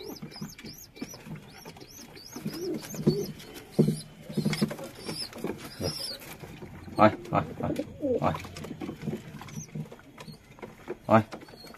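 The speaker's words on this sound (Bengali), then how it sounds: "দেখো বন্ধুরা পায়রা সব জল খেয়ে নিচ্ছে।" Several pet pigeons coo softly close by while drinking water, their low murmuring calls repeating amid light patter and shuffling, with someone speaking intermittently over them.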